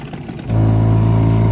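A 5-horsepower Apache outboard motor on an inflatable boat in winter catches and settles into a loud, steady running drone after a brief quieter moment.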